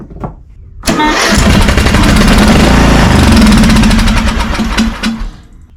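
A lawn mower engine fires up on starter fluid and roars loudly and steadily for several seconds, then sputters and cuts out near the end.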